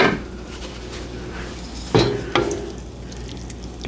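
Beef broth for a ground beef stroganoff goes into a hot pan on a gas stove, giving a steady sizzle with two sharp metallic clanks of utensil against pan partway through, close and fairly loud.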